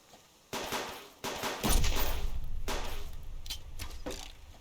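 Gunfire in the survival video game Subsistence: a few loud, separate shots, followed by a sustained rattling burst that slowly fades.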